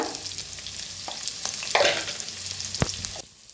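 Chopped onion, cumin and asafoetida fry in hot oil with a steady, close sizzle, with a few stirring scrapes and a brief louder crackle midway before it cuts off.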